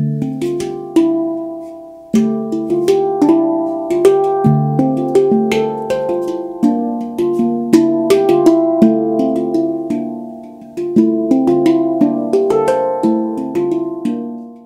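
A handpan jam built on repeated phrases with a few clashing notes, bright struck tones ringing and overlapping in a steady, unhurried rhythm, close and fairly loud with no voices.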